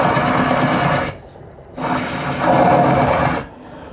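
A Japanese-style lathe cuts a wooden cup in two bursts of steady whirring, buzzing tool noise, close and fairly loud, split by a short quiet gap.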